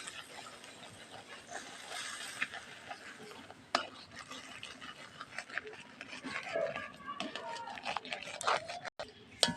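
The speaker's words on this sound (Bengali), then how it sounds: "অনবরত নাড়িয়ে একটা ডো আকারে তৈরি করে নিতে লাগবে।" Rice flour is stirred steadily into boiling salted water to form pitha dough, giving a continuous close scraping and slapping texture with brief knocks, while someone talks over it.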